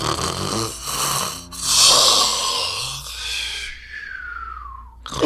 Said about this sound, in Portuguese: Enquanto ele roncava.